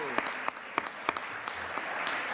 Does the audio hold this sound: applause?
yes